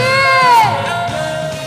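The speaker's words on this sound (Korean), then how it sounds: "함성 소리" A crowd at a Parents' Day ceremony and cultural performance cheers and shouts loudly, with a rising voice-like whoop sweeping through the middle of a brief, energetic burst.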